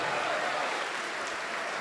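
A church congregation at a Portuguese-language worship service breaks into a brief burst of dense, even clapping that holds steady at moderate volume, then begins to thin out.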